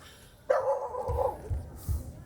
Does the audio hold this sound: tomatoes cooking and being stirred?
no